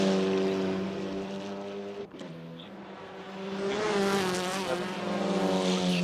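A TCR sim racing car crossing the finish line in an NLS 3-hour series video game race, a loud sustained engine drone with a brief dip before climbing again, revving higher near the end.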